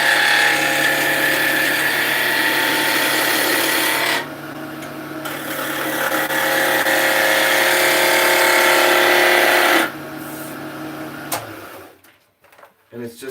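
A skew chisel cuts wood on a lathe with a steady, loud rasping hiss. The cut drops off briefly partway through, then resumes and stops, followed by faint knocks near the end.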